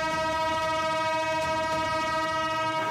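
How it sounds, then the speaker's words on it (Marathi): A train horn blares in a long, steady, loud tone as the first passenger train departs Beed for Ahilyanagar, held without a break over faint rail rumble. "पहिली रेल्वे बीडमधून अहिल्यानगरसाठी रवाना झाली"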